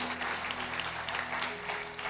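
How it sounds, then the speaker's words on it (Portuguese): Congregation applause in a church worship service, a steady, dense clapping wash lasting the whole stretch under a faint sustained tone, moderately loud and without a break. "Você pode aplaudir mais forte ao Senhor?"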